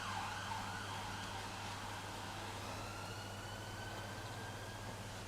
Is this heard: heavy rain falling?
no